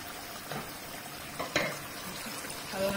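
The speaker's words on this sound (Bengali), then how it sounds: "ইলিশ মাছ ভাজা এখানে ভাজা দিচ্ছে" Hilsa fish frying in a pan gives off a steady, noisy sizzle, broken by a few brief stirring scrapes and utensil clinks.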